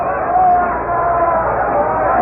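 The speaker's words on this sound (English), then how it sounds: "Small crowd making a lot of racket." Small crowd at a baseball stadium making noise, a steady distant roar of cheering and babble broadcast over radio, continuous for a couple of seconds.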